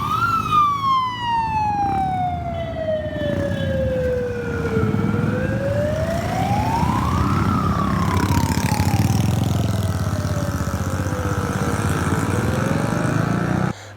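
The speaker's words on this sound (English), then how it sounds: "Have a look at this tuk-tuk that is, blowing a siren." A siren wails from a tuk-tuk, loud and close, its pitch sweeping down slowly, rising once, then falling again over a constant engine rumble, with no one speaking.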